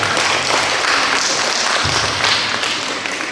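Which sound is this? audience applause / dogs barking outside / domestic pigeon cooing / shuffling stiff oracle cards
audience applause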